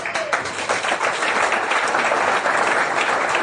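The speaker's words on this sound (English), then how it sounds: "applause for the dream team." Steady audience applause at an evening talk event, a dense patter of many hands clapping, close and sustained without pause.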